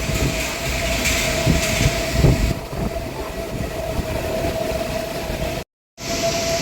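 Hua Lamphong railway station in Bangkok with trains, a steady loud rumble of rail cars and engines under a sustained hum, close and continuous, ending in a brief cut-out.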